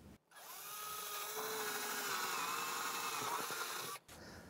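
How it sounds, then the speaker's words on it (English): A power drill with a 1/8 inch bit bores a hole beside model railroad track, whining steadily for about four seconds, starting and stopping abruptly, close and alone. "I'm going to use a 1/8 inch drill bit to drill this hole."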